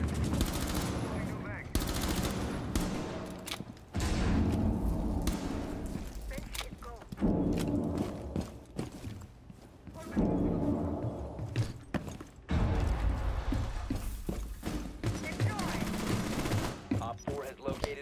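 Rapid bursts of automatic gunfire in a video game, loud clattering volleys broken by short pauses, with people talking over the shooting.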